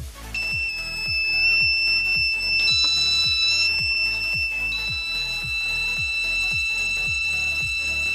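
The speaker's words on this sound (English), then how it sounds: "When fire switch cool down, then the buzzer also stop." A homemade fire alarm buzzer powered by a 9-volt battery sounds continuously and steadily, a shrill high-pitched tone with a faint regular ticking pulse underneath, close and alone without talk.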